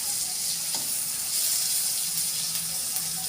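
Garlic frying in a pan until golden brown, a steady close sizzle and hiss throughout with a faint stir near the start and no talking.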